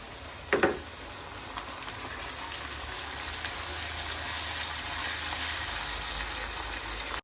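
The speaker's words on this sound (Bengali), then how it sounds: "ভাজা হয়ে গিয়েছে, দিয়ে দিব আদা রসুনের বাটা," Chopped onion sizzles steadily in a pan, with ginger-garlic paste added while cooking, giving a continuous close hissing fry and a short clatter near the start.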